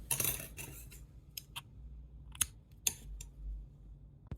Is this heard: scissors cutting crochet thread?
yes